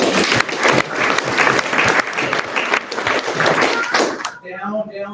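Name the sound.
audience applause at a race briefing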